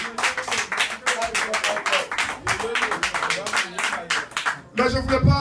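An audience at a festival launch in a café-concert venue claps by hand, a fairly close, uneven patter of individual claps that thickens near the end, with voices mixed in.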